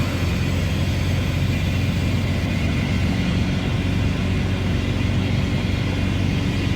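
A 1.9L diesel engine in a swapped one-ton truck pulls hard in third gear while climbing, a steady loud cabin drone with low rumble and road noise throughout, no voices.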